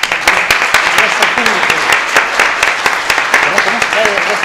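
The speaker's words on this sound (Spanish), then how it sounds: "yo les pido un aplauso para ellos" An audience claps for arriving guests at an academic symposium on shaft-and-chamber tomb complexes, a dense steady burst of many hands filling the room, with some murmuring voices underneath.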